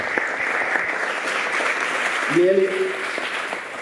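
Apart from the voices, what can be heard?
applause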